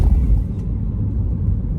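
A car drives along a tree-lined two-lane city street in Belgrade, heard from inside as a low steady engine and road rumble, close and continuous with no voices.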